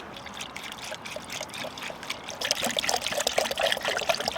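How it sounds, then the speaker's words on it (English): Used chip fat cooking oil pouring into a van's fuel tank on a road trip through the UK, a steady liquid trickle that swells into a louder, splashier glugging stream partway through, heard close with no talk. "This is the next load of chip fat that is going into the van."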